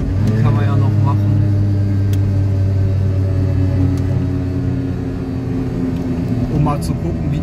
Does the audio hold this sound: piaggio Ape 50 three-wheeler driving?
yes